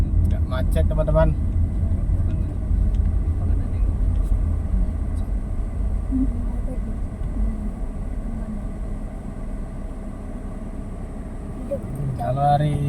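Heavy holiday traffic crawls in a jam on the road through Lembah Anai in West Sumatra, a continuous low engine rumble close by, with brief voices at the start and end.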